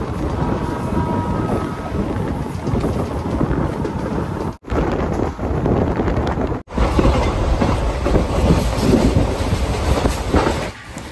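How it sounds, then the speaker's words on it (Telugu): Circar Express passenger train speeding away from Chengalpattu station, a loud continuous rumble and roar with rhythmic clickety-clack heard from onboard, broken by two brief dropouts, no talk. "సో మన ట్రైన్ అయితే ఇప్పుడే చెంగల్పట్టు స్టేషన్ నుంచి వెళ్తుంది,"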